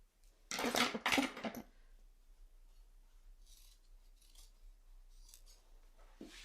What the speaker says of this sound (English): If you have any like stray interfacing that's kind of hanging out, let's just go ahead and trim that up